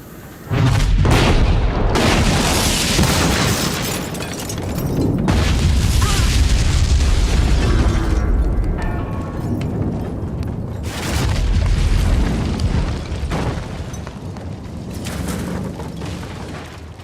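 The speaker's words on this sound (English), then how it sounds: "dies in the barn explosion." A barn explosion staged for the TV soap Emmerdale erupts as a heavy, sustained booming roar, loud and continuous with rumbling bursts and crackling debris throughout, no voices heard.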